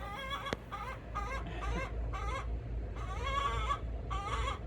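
Backyard coop chickens cluck and chatter in repeated bursts over steady outdoor background noise, moderately close and alone without talk.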